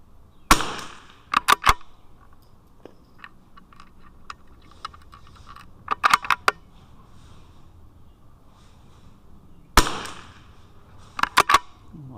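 .22 LR rimfire rifle shots fired at targets during a rimfire challenge, heard as sharp cracks in quick clusters of two to four with quieter gaps between the strings.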